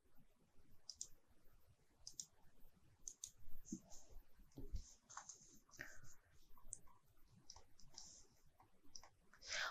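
Sharp mouse clicks while selecting lines in structural analysis software, coming in scattered single and double taps with faint keyboard-like ticks across a quiet room.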